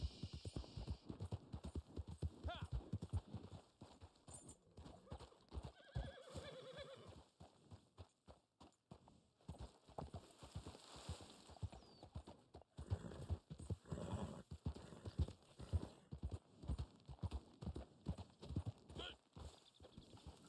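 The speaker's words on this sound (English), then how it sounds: "What horse am I riding? The Black Arabian horse." A Black Arabian horse gallops in the Red Dead Online video game, its rapid hoofbeats clip-clopping steadily with whinnying neighs, while a person talks over it.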